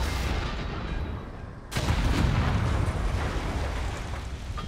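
Explosion in Infamous Second Son: a sudden deep boom breaks over a quieter background, followed by a loud rumbling tail that slowly fades.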